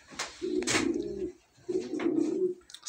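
Male pigeon coos twice in a displaying call to a female, each a low rolling phrase with a brief pause between, close and fairly quiet.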